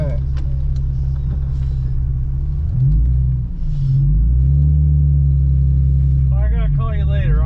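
Someone's drift car engine rumbles deep and loud from the back seat, a heavy low drone with revs rising and falling, while people talk inside the car.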